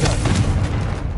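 A Confringo blast spell goes off in Hogwarts Legacy, a loud, dense burst of booming energy that fills the whole moment and tails off quickly.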